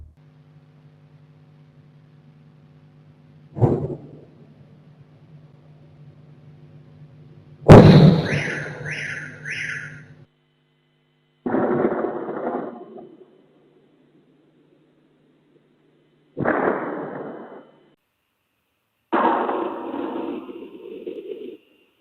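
Several distant explosions in Podolsk, Russia, during a drone attack boom one after another at irregular intervals, each a sharp burst with a rumbling tail, separated by quiet stretches.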